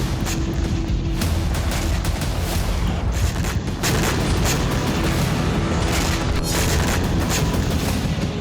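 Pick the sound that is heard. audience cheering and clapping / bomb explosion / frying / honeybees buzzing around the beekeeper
bomb explosion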